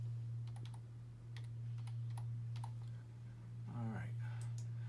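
A password typed on a computer keyboard: a few light, spaced key clicks in a quiet room over a steady low hum, with a brief voice near the end.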